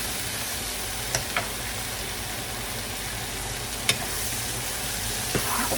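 Shrimp frying in a pan over medium-high heat as sauce is added, a steady, loud sizzle throughout with a few faint clicks and scrapes of utensils.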